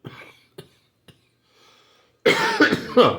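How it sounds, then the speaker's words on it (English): A burst of harsh, loud coughing erupts after a few faint breaths and clicks, with several rough hacks in quick succession close to the listener. "I felt the cough coming."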